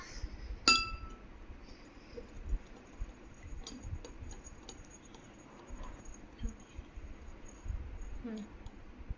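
A spoon stirring lemon juice and sugar in a glass, starting with one sharp clink and then a series of lighter, irregular taps and clinks against the glass, close and fairly quiet.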